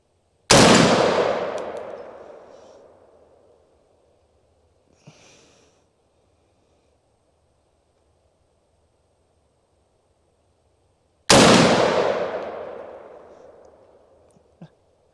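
Two sharp gunshots, several seconds apart, each striking steel plate targets with a loud ringing clang that decays slowly over a few seconds, one faint knock between them, in quiet open-air surroundings.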